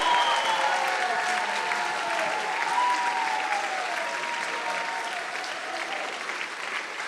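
Sustained audience applause for Jeremy Corbyn at a political gathering, a dense, even roar of many hands clapping that slowly tapers over several seconds.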